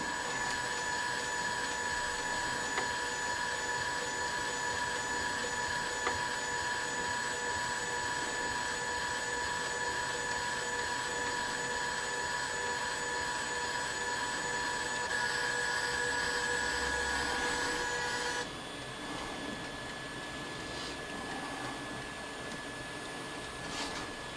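An EasyThreed Nano 3D printer zeroes its axes with a steady high-pitched whine of stepper motors and a faint fan hum, the tone shifting abruptly near the end.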